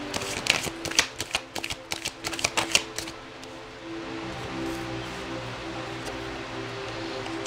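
Tarot cards being shuffled during a reading: a quick run of crisp, riffling card flicks in the first three seconds, then the handling fades to a quiet steady background hum.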